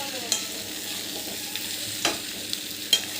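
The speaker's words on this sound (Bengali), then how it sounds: "ভালো করে মশলা দিয়ে এবার কষে নিচ্ছি।" Curry with spices being sautéed in a pan, a dense close-up sizzle with occasional sharp scrapes and taps from the spatula against the pan, and no speech.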